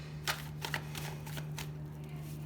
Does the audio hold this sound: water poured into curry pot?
no